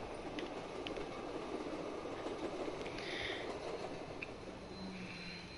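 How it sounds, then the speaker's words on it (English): Steady rumble of a train riding along in Call of Duty 3, a continuous low rolling drone with faint metallic clanks and brief squeals layered on top. "We're in a train"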